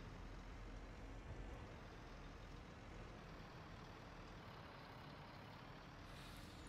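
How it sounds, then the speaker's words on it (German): A truck in Farming Simulator 22 drives steadily along a road, its engine a continuous low rumble with broadband hiss and no talking. "jetzt fahren wir hier mit dem LKW hier diesen Weg"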